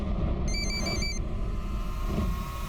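A telephone gives a short burst of repeated electronic ringing tones over a steady low rumble of room or traffic noise, then only the background hum continues.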